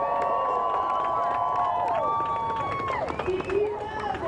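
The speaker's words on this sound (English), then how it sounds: "Let's go back out to Charlotte and just listen into the crowd here for a moment" A No Kings protest crowd gathers at First Ward Park in Uptown Charlotte, with a steady murmur of many voices, shouts and whistles at middle distance, and voices speaking over it.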